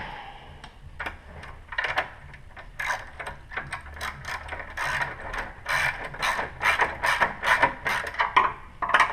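A hand ratchet clicks in quick repeated bursts, tightening the mounting bolts of a motorcycle rear hugger fender, close and steady with no talk.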